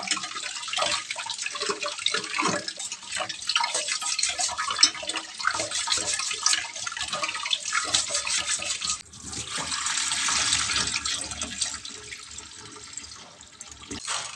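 Glutinous rice being washed by hand in water for biko, a steady close splashing and swishing of grains and liquid that continues throughout, with a brief dip midway before the sloshing resumes.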